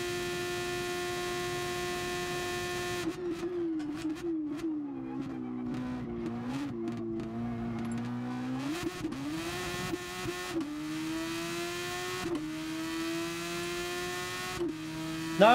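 A Super Formula race car in GT Sport, driven at night, roars at a steady high pitch and then drops through a string of rapid downshifts under heavy braking. The engine note wavers and climbs back up as it powers out, with no voices.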